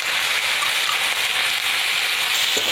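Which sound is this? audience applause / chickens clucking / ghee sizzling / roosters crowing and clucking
ghee sizzling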